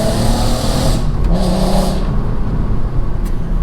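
VW Golf R32 engine revving hard under a light touch of the throttle, a loud, steady, broadband roar that rises and falls slightly with no talking over it.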